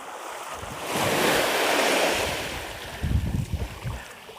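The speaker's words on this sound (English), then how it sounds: "Where are these big waves sucking everything back out again like that?" Big ocean waves surging on an Australian surf beach, a loud swelling wash that rises and recedes, then a rumbling churn of water as the surge pulls back out, with wind across the microphone.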